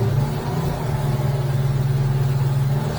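Outboard motors on a 2023 North River 3100SXL Seahawk OS boat run on the water during a test, making a loud, steady, close drone with a strong low hum and a constant pitch throughout.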